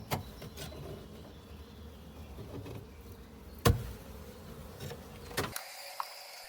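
Honeybees swarming restlessly over an open hive during a spring inspection, a steady, close, buzzing hum that carries on throughout, broken by a few sharp knocks and a sudden clunk near the end.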